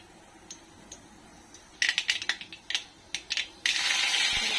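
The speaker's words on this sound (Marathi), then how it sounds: "जिरी मोहरी टाकायची थोडी तडतडून द्यायची चांगली" Cumin and mustard seeds crackle in hot oil on a full gas flame, a scattered run of sharp close pops and spits building into a dense continuous sizzle, with no talking.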